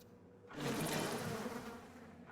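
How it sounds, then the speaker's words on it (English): Dense buzzing of a bee swarm in the video game BioShock, rising suddenly after a quiet start and holding as a loud, rough insect drone before easing slightly. "Bees!"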